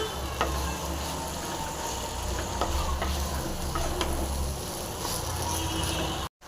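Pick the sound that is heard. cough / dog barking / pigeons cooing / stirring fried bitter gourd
stirring fried bitter gourd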